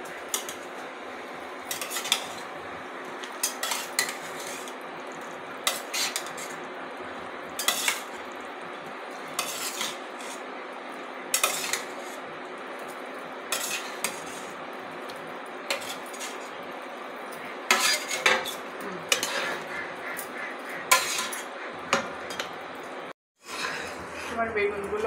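Eggplant pieces being added to a boiling curry and stirred, with repeated metal spoon scrapes and clanks against the pot over a low bubbling simmer, and a voice talking at times.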